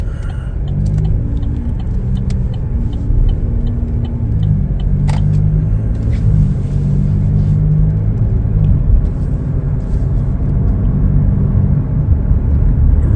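A Chevrolet Blazer 2LT on a test drive, with a steady low engine and road rumble that holds close and even throughout and no talk over it.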